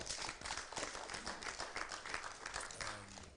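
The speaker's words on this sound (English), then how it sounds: "I want us to clap for him so much." Audience applauding for a leader at a public event, a dense, steady wash of many hands clapping at moderate distance with no break, filling the whole stretch.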